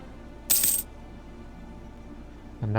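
Coin income chime from the strategy game Europa Universalis IV, a single bright metallic clink, short and clear over a quiet background, followed by the start of another faint tone.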